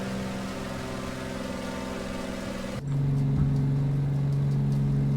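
Steady engine drone inside an airplane cockpit in Microsoft Flight Simulator, a smooth humming tone that abruptly shifts to a deeper, louder, steady pitch partway through and continues evenly.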